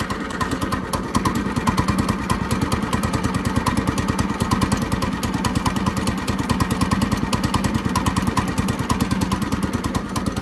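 A go-kart miniature truck's small engine idles steadily at half choke just after its first start-up, a loud, close, rapid even putter holding constant throughout with no talk over it.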